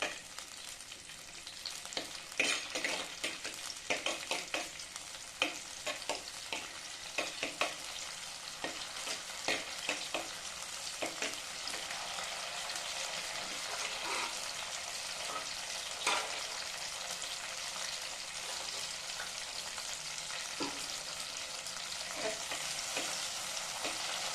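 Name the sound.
dried red chilies frying in oil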